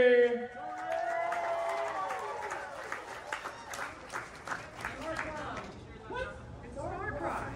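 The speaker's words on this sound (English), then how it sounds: "give a round of applause for Charlie" A crowd at the IFC 2022 fursuit dance competition applauds and cheers for a dancer, a scattered clatter of claps mixed with whoops and babble, opening with a brief voice and continuing under ongoing chatter.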